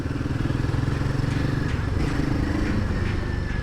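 A Royal Enfield Himalayan 450 motorcycle being ridden, its engine thrumming at a steady pulsing rhythm, close and continuous, with wind noise over it.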